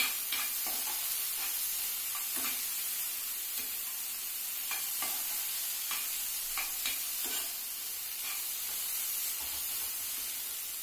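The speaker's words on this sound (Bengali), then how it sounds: "তিলটা বেসনটা বেশ সুন্দর ভাজা ভাজা হয়ে গেছে" Sesame and gram flour fry in a pan with a soft, steady sizzle, punctuated by light scraping and stirring clicks at an uneven pace.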